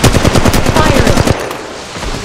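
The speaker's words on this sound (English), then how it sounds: "I've got fire coming our way." Loud rapid machine-gun bursts in the mobile video game Apex Legends Mobile, a quick run of evenly spaced shots for just over a second that then cuts off into quieter game ambience.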